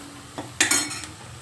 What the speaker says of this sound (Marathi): मी मसाले तेलातच भाजते.